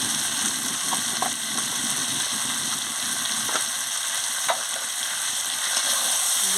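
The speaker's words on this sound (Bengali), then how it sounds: "দিয়ে ভালো করে কষে নিচ্ছি দেখেছেন কষাতে কষাতে রঙও বেরিয়ে যাচ্ছে তেলও বেরিয়ে যাচ্ছে" Young jackfruit curry frying in oil in a pan, a continuous close sizzle with light scattered taps of stirring, steady and moderately loud without talk.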